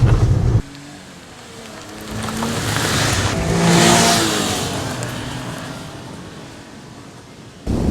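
A 1989 Honda Acty 4WD kei truck driving off-road, its small engine droning steadily and rising slightly in the middle, with rough rumble and wind noise close to the cabin.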